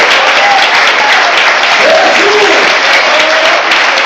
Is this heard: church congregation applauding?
yes